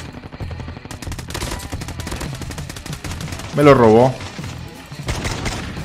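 Rapid gunfire bursts from the mobile shooter Call of Duty: Mobile during a battle royale match, crackling almost continuously with a louder close burst partway through, while a player talks over it.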